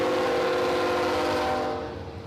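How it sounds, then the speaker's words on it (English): A southbound container train hauled by a Tier 4 locomotive passes close by as a loud, steady rumble with a tonal horn-like drone that fades slightly toward the end. "It's a Tier 4 locomotive. So this is a southbound container train going by"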